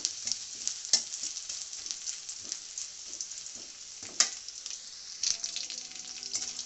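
Onions fry in oil in a wok with a steady close sizzle, broken by a few sharp stirring scrapes and clicks.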